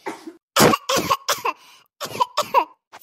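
A series of sharp coughs in two bursts, several hacking coughs close by with brief pauses between them.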